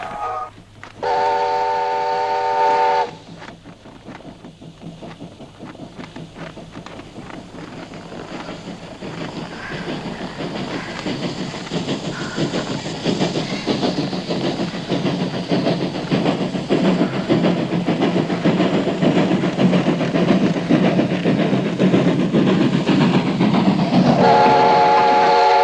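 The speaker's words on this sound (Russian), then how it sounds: "Мама, поезд идет! Поезд идет! Наконец-то!" A train whistle blows, then a rumbling train grows steadily louder with clattering wheels as it draws near, ending with another whistle blast.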